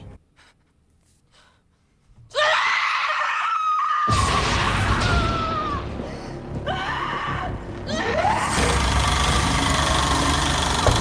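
A loud, drawn-out scream from the TV series Andor bursts in after a quiet stretch and stays harsh and sustained, with tense music and rumbling underneath.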